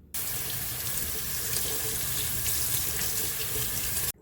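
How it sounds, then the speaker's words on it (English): Dried hibiscus flowers are rinsed under a running kitchen tap, a steady close splashing rush that starts and stops abruptly and lasts about four seconds, with no voices. "you did see me rinse off the hibiscus"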